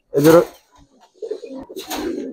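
A Giribaz silver pigeon gives a few soft, near coos, one short burst followed by a longer throaty rolling call, close and clear in a quiet space.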